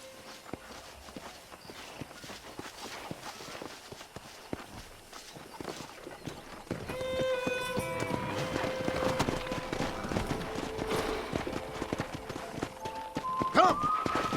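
Hooves of horses thud and clip-clop in a game of Red Dead Redemption, starting low and scattered, then growing busier and louder midway under a tonal game score.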